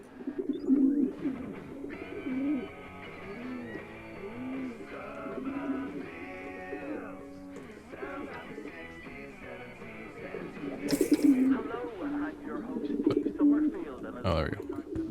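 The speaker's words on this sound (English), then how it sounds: "Oh, hey, it's a pigeon." A pigeon in the video game The Occupation coos repeatedly in soft, rolling low calls, set against quiet ambient game sounds and some voice.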